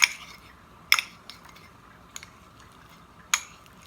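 A utensil stirring spaghetti bolognese in a pan, giving a few faint metallic clinks and scrapes at irregular intervals in a quiet kitchen.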